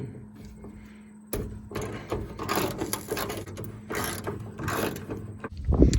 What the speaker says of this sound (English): take a 13mm socket and undo your 2 bolts that are right here